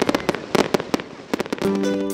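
Fireworks display at a coastal town, loud sharp bangs and crackling bursts in quick irregular succession, ending in a sustained rumbling fizz with a tonal whistle near the close.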